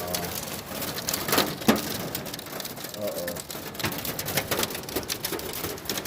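Severe rain during a flood-alert storm around a parked Prius, a dense, steady downpour with heavy drumming and patter throughout and a few louder splashing bursts.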